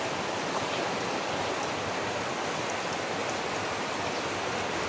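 Heavy rain during a flood at a house, a dense, steady hiss of pouring water that fills the whole clip at moderate loudness with no voices.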